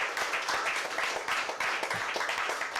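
Audience applause fills a talk on happiness, a dense, steady wash of many hands clapping at moderate distance, continuous throughout without voices.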